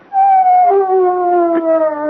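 A dog howls in a 1970s radio mystery drama, a long, mournful, sustained wail whose pitch slowly falls and wavers, loud and clear, with no voices over it.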